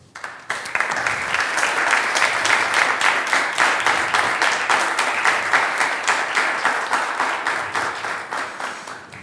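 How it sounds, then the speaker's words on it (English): A large audience applauds participants at the closing ceremony of an engineering competition final, a dense, steady roar of many hands clapping that swells quickly and holds loud for several seconds without speech. "let's welcome them with a huge round of applause"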